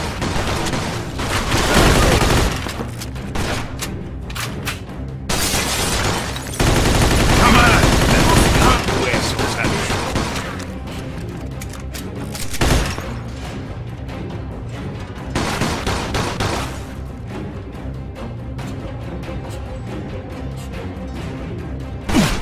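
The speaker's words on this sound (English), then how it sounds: "They shoot from up top!" Gunfire in a Mafia 2 video game shootout: heavy bursts of rapid automatic fire and loud close shots in clusters, falling back to sporadic single shots and echoing cracks between louder volleys.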